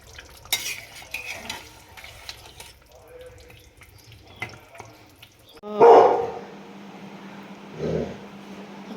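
A dog barks at strangers, two short barks standing out after several seconds of quiet kitchen clatter, water and stirring noises.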